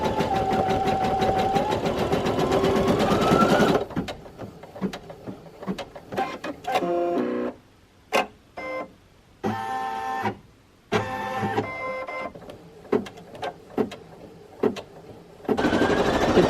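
An embroidery machine stitches a design of 8,251 stitches onto a kitchen towel, a rapid rhythmic mechanical whirring that starts and stops in bursts, broken by brief quiet pauses between runs.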